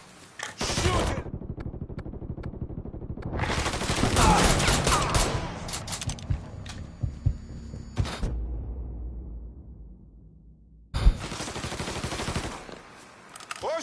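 Bursts of rapid automatic gunfire and shots in the video game Mafia III, during a heist on the Federal Reserve, loud and repeated in several volleys separated by brief lulls, with shouting voices at times.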